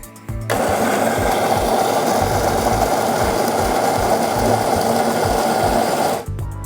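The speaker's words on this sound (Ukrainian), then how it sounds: "Ось ми намололи каву." A Jura Ono home coffee machine grinding coffee beans: a steady, loud, close mechanical whir held for about six seconds, starting and stopping abruptly, with no talk.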